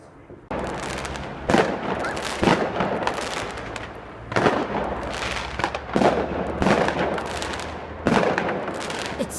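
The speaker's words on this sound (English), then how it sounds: "Random fireworks everywhere." Fireworks set off randomly all around, producing repeated loud, close booms and crackling bursts in uneven clusters over roughly nine seconds.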